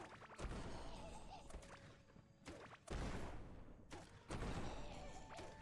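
Cannon firing in the Core Keeper video game, three heavy booming blasts spaced about one and a half seconds apart, each with a long rumbling decay, at moderate loudness.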